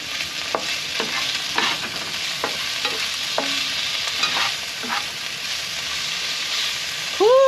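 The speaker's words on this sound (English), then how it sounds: "add the garlic, add the grape tomatoes. We're just going to saute these until they are soft" Garlic and grape tomatoes sautéing in a pan in a small off-grid camper kitchen, a constant crackling sizzle with repeated spatula scrapes and taps at an uneven pace, and a brief ringing clink at the end.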